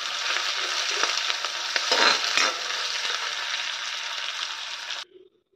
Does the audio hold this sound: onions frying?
yes